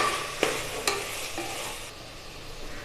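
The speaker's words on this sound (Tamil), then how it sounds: "இப்போ இதில் நல்லா சேர்த்து நல்லா கிண்டிக்கலாங்க." A spoon stirs tomatoes and onions sautéing in a pan for kuska biryani, with a soft steady sizzle and a couple of sharp scrapes against the pot, close and alone.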